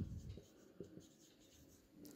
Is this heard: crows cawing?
no